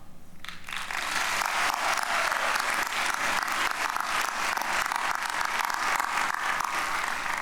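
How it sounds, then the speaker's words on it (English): At an MLK Day celebration, a large crowd bursts into sustained applause after a brief quiet moment, dense clapping continuing steadily and loudly to the end. "Please join me in a round of applause"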